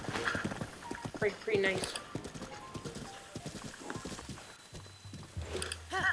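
A horse trots with rhythmic clip-clopping hooves while being ridden in Zelda: Breath of the Wild, steady and close beneath a man's chatter, with a brief neigh near the end.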